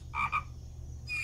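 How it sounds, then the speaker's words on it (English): Two quick frog croaks in a pigeon-themed music battle royale video game, followed by a third croak just under a second later. Each is short, bright and clear over a low steady hum. "Okay, frog."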